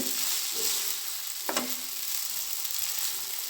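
Noodles sizzle steadily in a frying pan with soy sauce as a utensil stirs them, a few soft scraping knocks breaking through the continuous hiss.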